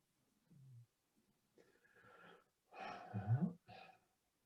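Gentle snoring from a person asleep in a room late in the evening: soft, low breathy snores and nasal snorts repeating in a slow rhythm, close and quiet, with a fuller, rumbling breath near the end.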